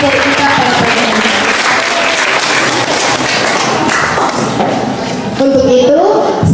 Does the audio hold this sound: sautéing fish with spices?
no